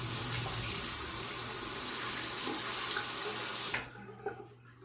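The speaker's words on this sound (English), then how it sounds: "I am going to rinse the razor one more time," Tap water runs steadily into a sink while a Wilkinson Sword two-piece razor is rinsed under the stream, a close, even splashing rush that cuts off abruptly near the end, leaving a few faint drips and knocks.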